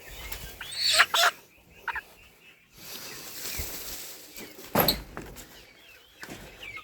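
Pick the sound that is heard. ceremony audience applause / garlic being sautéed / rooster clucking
rooster clucking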